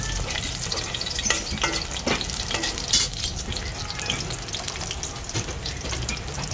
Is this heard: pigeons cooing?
no